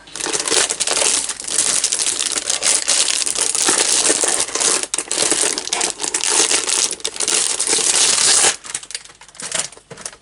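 Loud, continuous crinkling and crushing of a plastic bag being handled up close, rustling steadily for about ten seconds with brief pauses near the end.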